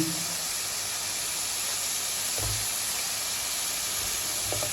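Tomatoes and Bombay chillies for dal sizzle in a pan with a constant, dense hiss, close and even, with a few faint low knocks from the pan.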